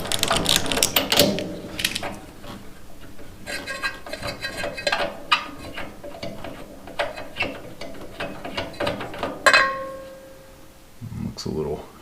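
A ratchet wrench clicks in rapid ratcheting bursts while a spark plug is loosened from a Troy-Bilt chipper/vac, with metallic rattles and a sharp clank near the end, close and fairly loud.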